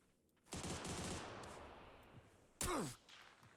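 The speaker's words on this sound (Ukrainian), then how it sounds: "по мені ззаді стріляють" A burst of gunfire in PUBG rattles out from behind in a fast stream and fades, followed by a sharp louder shot with a whooshing tail.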